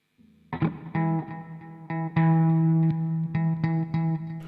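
Clean electric guitar, played live without distortion, rings out in a handful of chords and picked notes with sustained, bright tones and clear attacks, close and unaccompanied.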